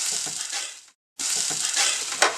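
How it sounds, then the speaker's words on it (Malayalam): Chicken pieces hit sizzling masala with garam masala in a hot pan, a loud, bright crackling hiss that cuts out briefly to silence, then resumes with stirring scrapes. "അത് ഇളക്കി നമുക്കിതിലേക്ക് ചിക്കൻ്റെ കഷ്ണങ്ങൾ ഇട്ട് കൊടുക്കാം"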